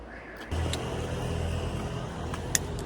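A car passes by outdoors at night, a steady engine and tyre rumble at moderate distance that rises briefly and holds, with a small click near the end.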